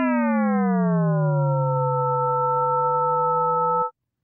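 A synthesized primordial Big Bang sound plays as a pure, steady harmonic chord. Its low fundamental and overtones glide downward, then level off into a sustained tone that cuts off abruptly after about four seconds.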